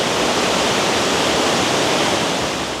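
A river at Villa Gregoriana pours down into an underground channel, a loud, unbroken roar of rushing water with no voices.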